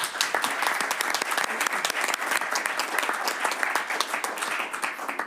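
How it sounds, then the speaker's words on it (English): Audience applause for Megan at a reconvened special board meeting, a continuous crisp patter of many hands clapping, fairly distant and even throughout with no talk over it. "Can everybody please give Megan a big round of applause?"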